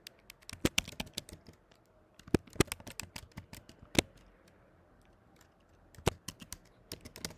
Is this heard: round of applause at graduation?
no